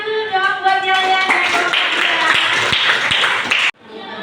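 Classroom students clapping together in quick, busy rapid taps, mixed with voices and chatter, cutting off abruptly before quieter room sound.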